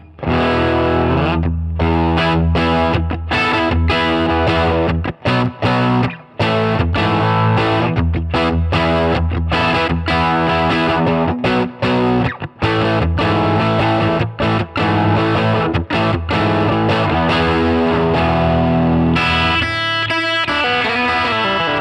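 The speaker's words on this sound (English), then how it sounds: "if we start to drive that channel, you're going to start getting a bit more breakup, especially if we go onto the bridge pickup" An electric guitar on its bridge pickup plays through an overdriven Marshall DSL1CR amp, giving loud, distorted chords in rhythmic bursts with brief gaps, close and without talk.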